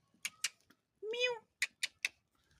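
A kitten gives one clear, drawn-out meow in a quiet room, surrounded by a few soft, sharp clicks and taps before and after it.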